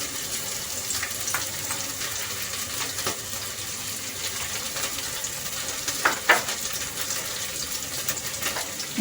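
Chopped cabbage frying in a pan for chicken spaghetti, a steady close sizzle with a few soft stirring clicks and scrapes.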